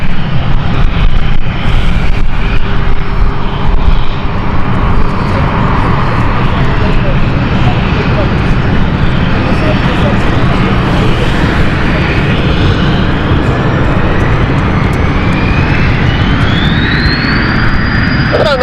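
An airliner on the Nuremberg flight takes off from a runway, a loud, steady jet roar that fills the whole stretch, with engine whine rising toward the end and wind noise throughout.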